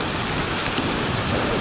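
Steady, loud rain pours while riding outdoors, a dense continuous wash of droplets with a low rumble beneath, with no voices.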